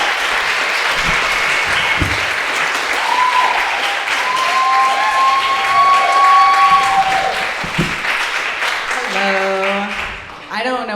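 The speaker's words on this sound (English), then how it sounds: "clap your hands right now for Francis Tierney, everybody" A comedy showcase crowd applauds and cheers as a comedian takes the stage, thick steady clapping with whoops and shouts mixed in, fading near the end as voices come through.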